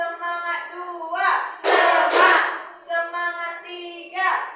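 Children in a classroom doing a rhythmic 'tepuk semangat' cheer clap, a few sharp bursts of group clapping interleaved with chanted voices.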